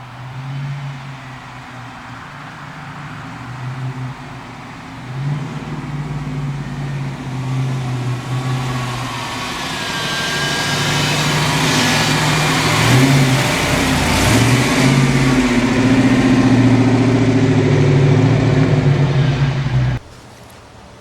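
A 1986 Ford Mustang GT driving on a dark road, its engine humming low and steady, then rising in pitch and loudness as it accelerates, holding a strong drone before cutting off abruptly near the end.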